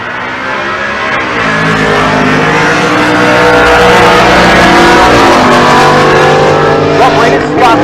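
A Ford F-150 truck drag racing at a Pueblo, Colorado strip, loud engine roar building as it launches and pulls hard through rising gears, close and dominant, with an announcer's voice partly under it.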